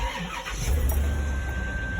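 Car engine cranking and catching, a low rumbling surge that swells after a brief start, then settles into a steady idle hum with a faint high whine.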